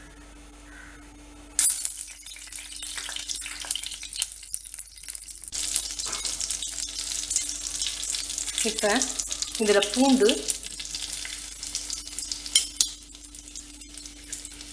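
Butter melting in a spoonful of oil in a pan sizzles steadily and close for butter chicken, a constant frying hiss with occasional stirring scrapes while someone talks over it.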